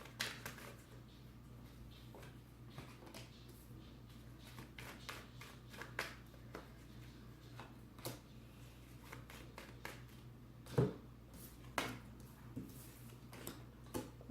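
Tarot cards are shuffled by hand in a quiet room: soft, irregular ticks and riffling flicks with occasional sharper snaps, faint and close, no speech.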